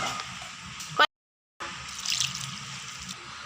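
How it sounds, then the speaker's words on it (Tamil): Water trickles little by little into rice flour batter in a kitchen, a soft steady pour broken by a brief pause, close and quiet with no talking. "அது கூட கொஞ்சம் கொஞ்சமாக தண்ணி ஊற்றி"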